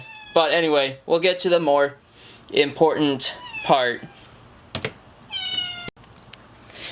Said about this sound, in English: Sorry, that was my cat.